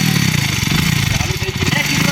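A second-hand motorcycle with a kick-start system runs close by, its engine chugging in quick, even pulses throughout the short stretch.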